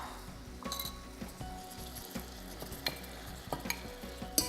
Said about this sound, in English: once the spices are nicely tossed in, really drop the heat and then add the beans